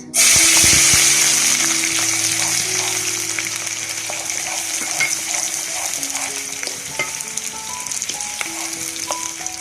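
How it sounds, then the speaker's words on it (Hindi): A loud, hissing sizzle of onions frying in ghee bursts up at first, then settles into a steady crackle with occasional stirring scrapes close by. "अब मैं इसी घी में प्याज डालती हूँ, उसको हल्का सा नरम करते हैं।"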